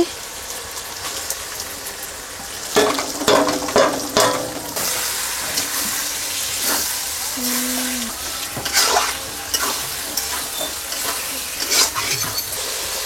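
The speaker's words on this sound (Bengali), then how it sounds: "মাংস দিয়ে দিচ্ছি" Chicken meat sizzling and frying in a hot pan while a spoon stirs it, for a dhaba-style chicken curry. A steady crackle continues throughout, with irregular scraping and stirring bursts and a brief tonal clink.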